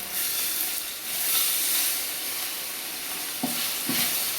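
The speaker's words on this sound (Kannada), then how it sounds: "ಈಗ ನಾನು ಶುಂಠಿ ಬೆಳ್ಳುಳ್ಳಿ ಪೇಸ್ಟ್ ಹಾಕ್ತಾ ಇದ್ದೀನಿ." Ginger-garlic paste sizzles steadily in hot oil while being cooked for a dham biryani, a close, continuous frying hiss with a couple of brief spoon knocks against the pan near the end.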